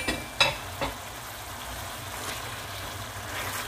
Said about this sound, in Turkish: Bu aşamada domates sosundan sonra haşlamış olduğum patlıcanları ilave ediyorum.